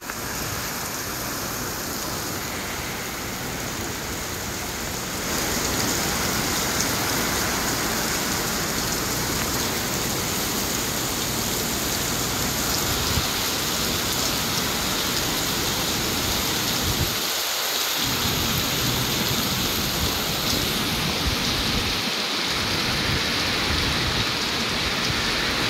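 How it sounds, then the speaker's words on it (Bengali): Heavy downpour of rain before Cyclone Remal, a dense steady roar of rainfall lasting throughout, growing slightly louder early on, with a couple of brief low thumps and no talk. "অনেক জোরে বৃষ্টি পড়ছে, আজকে তো সারাদিনই বৃষ্টি পড়ে গেছে আর এখন তো মুষলধারে নেমেছে।"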